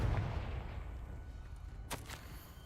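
A Confringo spell fires in the video game Hogwarts Legacy, a rumbling blast that fades, followed by two sharp cracking bursts near the end.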